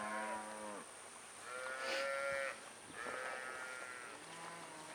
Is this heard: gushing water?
no